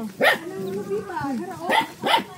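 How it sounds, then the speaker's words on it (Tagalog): A dog barks a couple of times nearby while people talk over and between the barks. "O, may aso."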